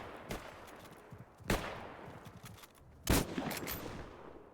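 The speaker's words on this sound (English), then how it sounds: "What did he shoot it with? It was some sort of gun." Three sharp, punchy gunshots in a video game, spaced about a second and a half apart, each with a short decaying tail, heard fairly close with no talk over them.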